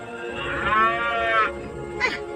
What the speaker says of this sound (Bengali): শুনেছি চোরের হাতে পড়লে গরু এভাবে ডাকে।